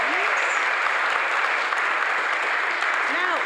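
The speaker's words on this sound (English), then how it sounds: "Let's have a round of applause." Audience applause filling a Unitarian chapel during a carol service, a steady dense wash of many hands clapping throughout, with no talk over it.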